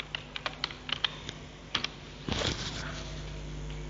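Python code typed on a computer keyboard: a quick, close burst of crisp key clicks, a short pause, then a few more taps and a heavier rustle, with no voices.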